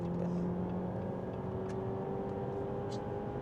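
A 2019 Jeep Compass High Altitude engine held at steady high revs with the gas pedal pressed, a faint, even drone and whir heard from a distance.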